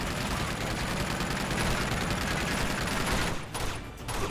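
Dense, continuous gunfire from a firefight in the video game Uncharted 2: Among Thieves Remastered, rapid overlapping shots rattling loudly for about three seconds before briefly thinning and resuming.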